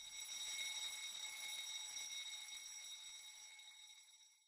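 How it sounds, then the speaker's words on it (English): A high-pitched electronic engine room fire alarm rings steadily and continuously, easing off slightly in loudness toward the end. "This will cause an alarm to sound in the engine room and engine control room."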